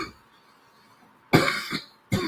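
A man coughs close to the mic: a strong cough followed by a quick second one, then another after a short pause, with quiet room tone before and no talking.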